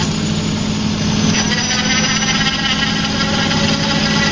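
A hydraulic pump on an old homemade snow plow runs steadily without straining, a continuous mid-pitched mechanical drone with an engine-like hum and no noticeable changes in load.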